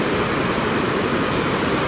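Meltwater of the Satluj river from the Himalaya rushes past in a dense, steady roar of broadband water noise, close and loud with no pauses.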